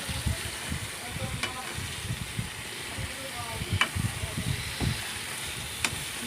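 Pointed gourd pieces added to spiced oil and stirred in a pan while cooking with fish, giving a steady sizzling hiss broken by repeated scraping stir strokes at close range, with a voice speaking over it.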